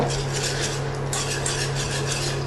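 A whisk stirs cream in a bowl for a baked courgette and fromage blanc gratin, a close continuous scraping swish with rhythmic strokes against the bowl and a steady hum underneath.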